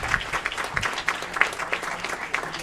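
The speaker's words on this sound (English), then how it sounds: "Another round of applause for Deputy Chief Nickel," Applause at an Aurora City Council meeting for a deputy chief of the Aurora Fire Department, a room full of steady hand clapping with sharp individual claps standing out, moderately loud and continuous throughout.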